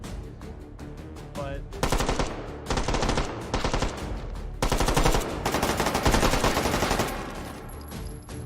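Sustained automatic gunfire in a video game aimed at enemies carrying riot shields: loud, close bursts of rapid shots with brief pauses, a faint voice early on.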